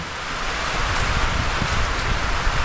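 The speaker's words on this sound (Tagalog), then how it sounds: "napaka lakas na ng ulan tsaka yung hangin" Heavy typhoon rain pours down with gusting wind beside a cornfield, a dense continuous roaring hiss that is loud and close throughout.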